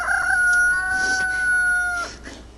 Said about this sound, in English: Always competing with those roosters.